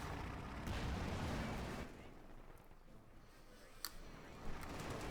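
Tank cannon fire in Company of Heroes 2, a faint low rumbling boom followed by a couple of brief sharp cracks and pops amid distant battle noise.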